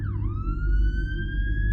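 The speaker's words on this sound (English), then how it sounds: "the sirens continued to wail, emergency vehicles rushing through the streets endlessly" Police siren wailing in a city at night in the video game Bad Summer, a single steady electronic tone sweeping down then holding, loud and close over a low rumbling background, no voices.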